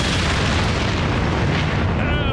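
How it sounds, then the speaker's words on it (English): A cartoon bomb explosion in an animated historical naval scene, a loud, sustained, roaring boom that fills the whole clip at steady intensity. "Shoot at the bomb. Blow it up."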